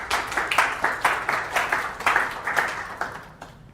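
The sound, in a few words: audience applause for speaker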